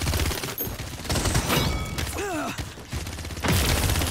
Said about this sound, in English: Oh, I just shot that bomb.